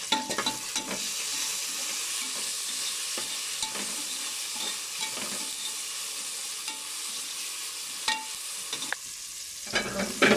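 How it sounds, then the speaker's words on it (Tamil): Onions sautéing with salt in a pan give a steady, close sizzle, with the scrape and tap of a stirring spoon at intervals and no voices. "இது வெங்காயம் வதங்குது. உப்பு போட்டு இதை வதக்கி விட்டுடலாம்."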